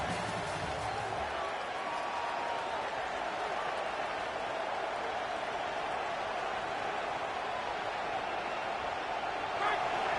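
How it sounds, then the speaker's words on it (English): Stadium crowd noise from a football video game, a steady, fairly faint wash of cheering and murmur that holds constant throughout with no distinct peaks. "This crowd bringing the energy and noise early."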